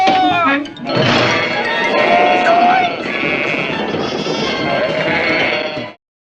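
Cartoon sheep bleat loudly and repeatedly from inside a shed, a dense, continuous chorus of overlapping baas filling the whole stretch before cutting off abruptly.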